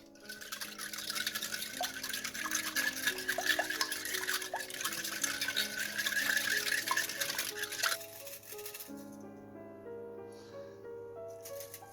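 Tart ingredients, seasoned with pepper, get stirred in a bowl with wet, sloshing scrapes for about eight seconds over soft background music, then the mixing stops and only the music carries on.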